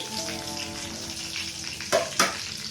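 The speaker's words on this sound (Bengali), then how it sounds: "দিয়ে এগুলোকে একটু ফ্রাই করে নিচ্ছি হালকা।" Whole cardamom, cinnamon, white cumin and ground pepper frying in hot oil for Hyderabadi paneer, with a steady close sizzle and two sharp stirring scrapes near the end, with no talk.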